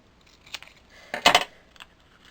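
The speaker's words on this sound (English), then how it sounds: "Let me cut that one in half." Scissors cutting a piece of card in half, a short crisp snipping and crunching close by, with a couple of light clicks before and after the main cut.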